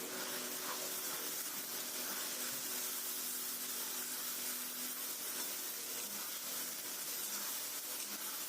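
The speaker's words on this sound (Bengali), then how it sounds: "মশলাটাকে ভালো করে এবার কষিয়ে নেব।" A paste masala of ginger, garlic and cumin fries in a pan over a medium gas flame, giving a steady, faint, continuous hiss and sizzle with no speech.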